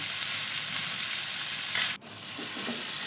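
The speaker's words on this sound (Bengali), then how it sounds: "তো নুনটা দিয়ে আমি আবারও ভালো করে কষাতে থাকবো" Potatoes, watermelon and prawns sauté with salt in a pan, giving a steady close sizzle with a brief dip partway through and scraping stirs near the end.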